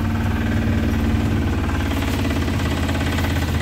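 The engine of a pesticide sprayer for an Alphonso mango orchard runs nearby, a steady, loud, vibrating mid-pitched chug that holds constant throughout with no voices.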